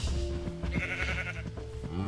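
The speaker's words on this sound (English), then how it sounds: "Come on, sheep." Sheep bleat in the Minecraft video game, a few short wavering bleats layered over a steady background of game music and ambient sound, with no talking.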